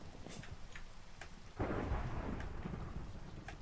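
Rain patters steadily in a video game, and then thunder breaks in with a sudden loud rumble that rolls on under the rainfall.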